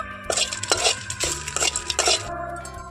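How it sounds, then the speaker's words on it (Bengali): Dry red chillies and bay leaves are fried in a pan for a sweet, sour and spicy pickle, heard as bursts of scraping and clattering as a utensil stirs against the pan, with a faint sizzle beneath. "আমি এখানে কয়েকটা শুকনো লঙ্কা আর দিয়ে দিচ্ছি তেজপাতা তো এইগুলোকে প্রথমে আমি ভেজে নেবো"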